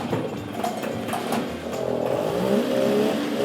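A Bond Bug's two-stroke engine catches and revs, a buzzy, rising mechanical drone with rough sputtering that builds and sustains at close range, with no talk over it.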